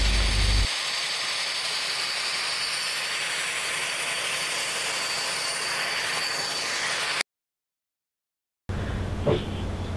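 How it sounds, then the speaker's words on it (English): Steady, loud engine drone from inside a Twin Otter aircraft flying in Antarctica near Union Glacier, a constant broadband roar that cuts out briefly near the end before resuming. "Thanks to Ricky, Lisa and I were lucky to get a ride in the Twin Otter to see him off"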